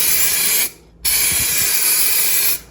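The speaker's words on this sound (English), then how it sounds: "I'm gonna just kind of start it off to the side here, just on that towel, just to get an idea of which way it sprays" Spray coating hissing from an aerosol can onto headlight trim, a loud, close, continuous hiss in two long bursts separated by a brief pause, heard alone.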